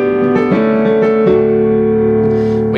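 Grand piano voice on a Nord Stage 2 keyboard, played as full sustained chords with a few notes re-struck, ringing loud and close on its own.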